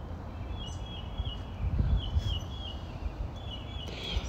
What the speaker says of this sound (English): If you guys hear chirping in the backgrounds right now,